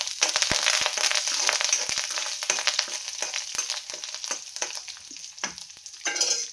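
Tempering seeds and onion pieces frying in hot oil make a loud, dense sizzle and crackle, with frequent spoon scrapes and taps as the pan is stirred up close.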